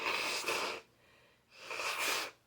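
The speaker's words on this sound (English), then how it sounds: "I need to blow my nose" Someone blows their nose twice, two quiet, close, breathy honking bursts separated by a short pause.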